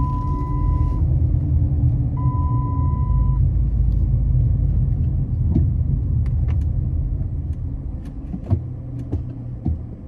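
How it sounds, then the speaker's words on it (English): A Chrysler 300 pulls away in a parking lot, heard from inside as a steady low engine and road rumble with a couple of brief chime tones early on and a few small clicks, no talk. "So I'm gonna start driving."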